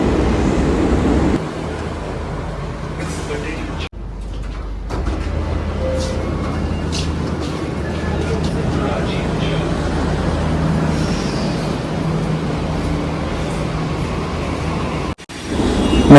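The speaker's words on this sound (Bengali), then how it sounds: "তো দেখা পাইছেন এই যে মেট্রো আসলো।" A Delhi metro train pulls into the station, a loud, continuous rumble and whoosh of rail carriages filling the platform, with a brief dip and some faint voices in the background.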